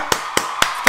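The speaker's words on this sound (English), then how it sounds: "we gonna clap it up for winning right now" Four sharp hand claps in a steady rhythm, close and fairly loud, with no other sound between them.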